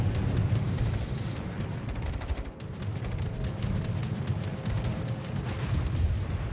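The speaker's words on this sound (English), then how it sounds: "Now Lionel's shooting at Nork there" Repeated booming ship gunfire from World of Warships naval battle, Atago and other warships exchanging salvos; dense, loud rumbling volleys with overlapping blasts rolling continuously, no talk over it.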